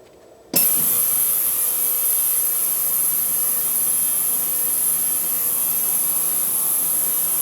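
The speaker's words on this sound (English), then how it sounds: "It's the ultrasonic cleaner for those who are not initiated." An ultrasonic cleaner switching on with a carburetor body from a Craftsman mower inside, jumping abruptly from near silence to a loud, steady electric hum with a high-pitched whine that holds unchanged.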